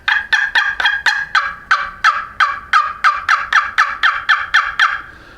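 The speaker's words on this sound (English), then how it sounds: "this is a more typical box call with a striker. The nice thing about this is a Quaker Boy Grand Old Master." A Quaker Boy Grand Old Master turkey box call worked with a striker gives about fifteen loud, evenly spaced raspy yelps in a steady rhythm, close and with no voices over it.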